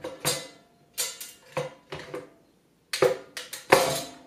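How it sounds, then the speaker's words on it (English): Enamel liner pan of a NuWave 20631 Oven Pro Plus set into the oven base, giving a series of about eight sharp metallic clanks and rattles in irregular bursts, close and clear, with no talk. "The enamel liner pan goes next."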